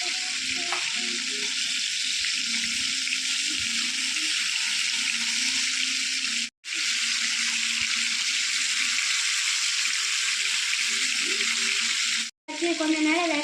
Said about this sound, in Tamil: ஒரு லெக் பீஸ் எடுத்து பொரிச்சிக்கலாம்.